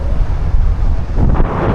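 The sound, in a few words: wind blowing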